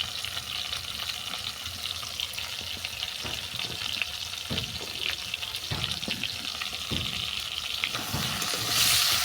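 Chili powder, mustard-poppy paste and ginger paste sizzle and fry in a pan as the spice mix is sautéed, a steady close crackle with occasional scraping stirs and a brighter hiss swelling near the end.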